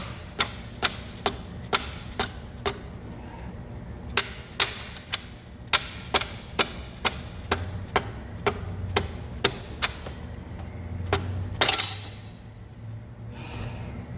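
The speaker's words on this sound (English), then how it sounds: "Probably gonna use my wrench." A wrench working on parts of a Mustang after removal of the Procharger, heard as a steady run of sharp metallic ratchet clicks in regular rhythm, close and clear, ending in a brief scrape with nothing spoken.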